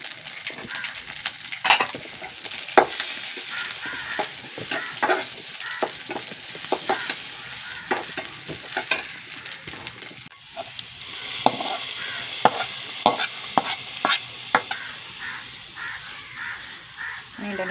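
Cashews and raisins sizzle with grated coconut in a frying pan while a spoon stirs and scrapes repeatedly, with crows cawing outdoors in the background.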